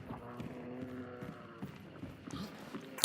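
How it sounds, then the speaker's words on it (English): A horse's hooves clip-clop in a video game, a quiet, evenly paced run of hoof beats behind a faint background bed. "There is a horse here."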